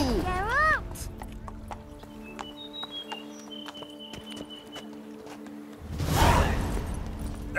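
Roach, Geralt's horse in The Witcher 3, gives a loud rising whinny up close, then hooves clip-clop steadily under soft game chimes before a burst of rushing gallop noise near the end.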